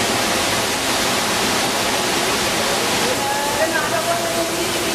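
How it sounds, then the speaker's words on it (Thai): A rainforest waterfall roars loud and constant nearby, a dense unbroken rush of falling water filling the whole stretch. "มีน้ำตกสวยงาม"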